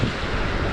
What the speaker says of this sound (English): the wind's just now got up